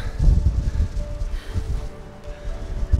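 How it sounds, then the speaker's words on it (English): Strong wind buffets a microphone outdoors on a high ridge of Kentucky's Pine Mountain Trail, a continuous low rumble that surges and eases in gusts for the whole few seconds. "It's just so windy."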